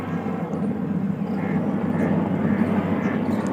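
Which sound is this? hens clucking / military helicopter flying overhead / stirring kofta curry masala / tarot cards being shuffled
military helicopter flying overhead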